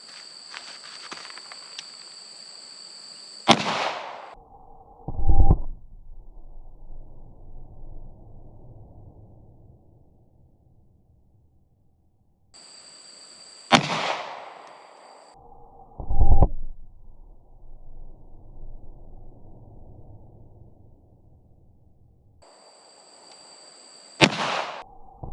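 An H&K P7M8 9mm semi-automatic pistol made in 1984 is test-fired with 147-grain hollow-point loads. Three sharp, loud reports come about ten seconds apart, each followed by a heavy thump and a fading tail.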